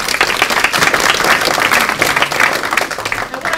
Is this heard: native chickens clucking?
no